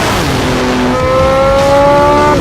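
The Porsche 918 Spider hybrid, with 887 combined horsepower, sounds loud and close, its engine note rising steadily as it accelerates, with no talk over it.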